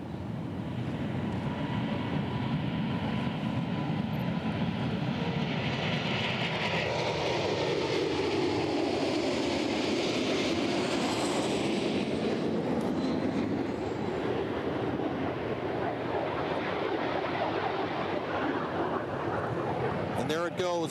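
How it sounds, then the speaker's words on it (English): Boeing 747-8 freighter taking off on its first flight from Everett's Payne Field, a broad, distant jet roar that swells and shifts in pitch as the aircraft climbs away, steady and continuous without talk. "747-8, again the freighter version, in the air now, heading north out of Everett's Payne Field"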